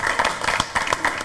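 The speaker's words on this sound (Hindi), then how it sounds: "उनके लिए एक बार जोरदार तालियां बताइए" A studio audience at a Diwali celebration show claps in a brief, dense burst of applause, with sharp overlapping hand claps close by.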